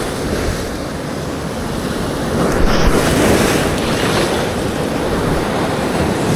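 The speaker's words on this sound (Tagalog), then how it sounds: "May alon." Ocean waves churn around a fishing boat at a game-fish spot, a steady broadband wash of surf and wind buffeting close to the microphone, with a slightly stronger surge midway through and no talking.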